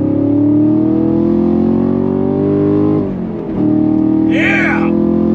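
A 2023 Chevrolet Camaro SS V8 convertible pulls hard under throttle, its loud engine note climbing steadily, dipping briefly at a shift, then rising again close by.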